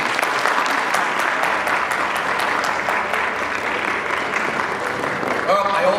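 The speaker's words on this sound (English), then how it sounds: "give these amazing young people a round of applause for their fantastic work." An audience at a commencement ceremony claps loudly and steadily, dense applause filling the whole stretch without talk.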